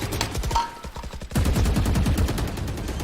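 Gunfire from a Stinger submachine gun in the shooter VALORANT crackles in rapid bursts, a short volley followed by a denser sustained stream of shots, loud and close.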